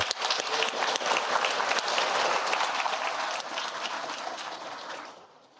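Audience in a school district board workshop applauding, a loud, dense burst of clapping that holds steady and then tapers off toward the end.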